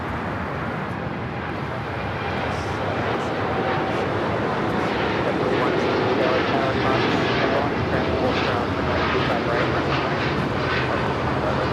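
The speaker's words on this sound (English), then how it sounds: "This is the Asiana A380 Super heading back to Seoul. Should be a north side takeoff, flight 201." An eight-year-old Asiana Airbus A380 taking off from LAX on a flight to Seoul, a loud steady jet roar that swells and holds throughout, heard from a distance outdoors.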